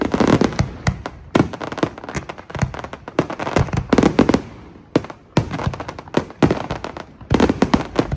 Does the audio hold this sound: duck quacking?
no